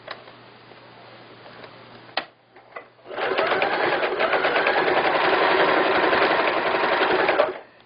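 After a quiet hum and a couple of clicks, a sewing machine starts up and runs in a steady, close, rapid stitching whir, sewing elastic into the waistband of a floral skirt.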